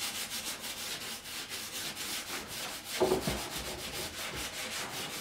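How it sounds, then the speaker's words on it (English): Very fine sandpaper gently buffing paint off a frame, giving a steady close rhythmic rubbing scratch in repeated even strokes. "using a very, very, very fine sandpaper, is very gently buff off the top paint to show the purple paint underneath"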